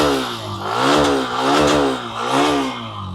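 A motorcycle engine revs up and down in three swells, its throaty exhaust note rising and falling close by, with no talking.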